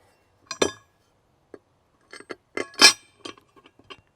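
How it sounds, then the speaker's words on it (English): Metal carriage bolts slipped into a steel bracket for an AR500 target hanger: a few sharp, close metallic clinks and taps, scattered irregularly with short pauses, one louder ringing clink in the middle. "Slip the carriage bolts in."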